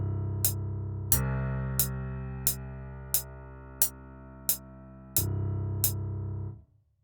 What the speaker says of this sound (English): So I got a piano sound from Keyscape